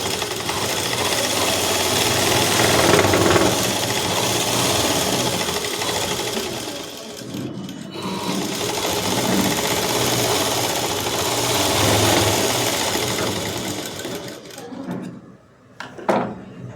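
A sewing machine runs steadily, sewing double rows of stitches on a dress top, a dense continuous whir with a couple of brief pauses near the middle and end.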